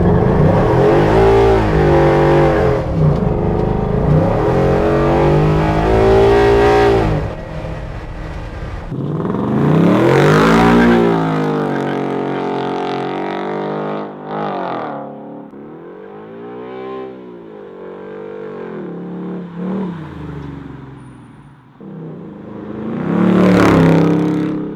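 A Ford F100 pickup with a swapped Coyote 5.0 V8 accelerating hard, the engine roaring up through the revs in long loud sweeps, easing between pulls, then surging again near the end.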